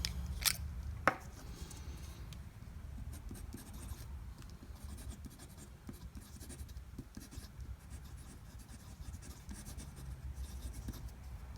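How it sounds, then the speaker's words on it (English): A fountain pen writing on smooth paper, a close, continuous soft scratching of nib strokes, with two sharp taps at the start and no talking. "So let's do the writing."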